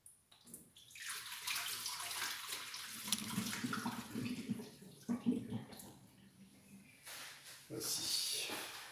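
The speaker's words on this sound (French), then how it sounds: "on va se débarrasser d'une grosse partie de notre bouillon" Fish broth from a pot of hake and carrots is poured off, making a continuous splashing, gurgling stream of liquid that briefly thins before surging again.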